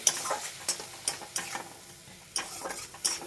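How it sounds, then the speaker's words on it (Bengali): Whole spices being sautéed slowly in a pan for a vegetarian dish with green chillies, giving a soft steady sizzle broken by several sharp scrapes and clinks of a stirring spoon, close and alone. "মশলাগুলো সব দিয়ে আস্তে আস্তে ভালো করে কষিয়ে নেব।"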